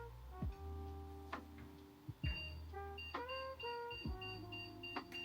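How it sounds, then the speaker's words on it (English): Several short electronic beeps and tones sound in a sparse pattern over a steady low hum, a 2010-era PC motherboard emitting POST error beeps at startup. "Okay, getting a beep error."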